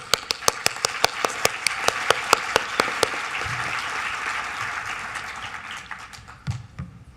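At a design awards ceremony, one person's sharp rhythmic claps lead before the audience joins in broad sustained applause that slowly fades, with a few louder claps near the end.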